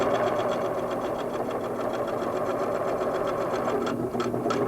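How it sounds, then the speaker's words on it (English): A Singer sewing machine stitching straight lines across a quilt runs at a steady, fast clatter for the whole stretch, close and continuous with no talking over it. "As you continue sewing and getting farther into the center of the quilt"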